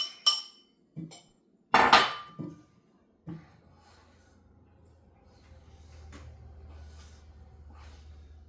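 A few sharp clinks and scrapes of a utensil against a bowl come first as a thick batter of eggs, apple cider and sourdough starter is stirred, then a quiet low rumble with faint taps follows.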